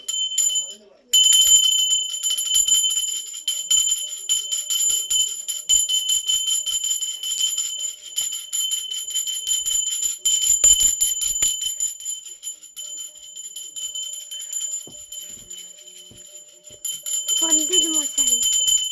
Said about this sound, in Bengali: চলো এবার ঘন্টাটা বাজিয়ে দাও।